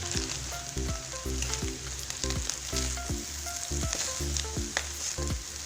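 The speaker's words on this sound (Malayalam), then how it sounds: "നല്ലോണം ഇളക്കി യോജിപ്പിക്കാം." Egg rice is stirred in a hot pan: a constant sizzling hiss with repeated scraping clinks of a spoon against the pan in a loose, steady rhythm, close and alone.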